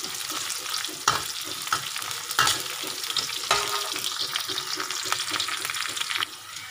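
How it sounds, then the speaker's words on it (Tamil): Onions sauté in a pan for a fish-head curry, giving a loud, steady close sizzle broken by occasional scraping stirs of a utensil, with no voices. "நல்லா வதங்கிட்டு வருது."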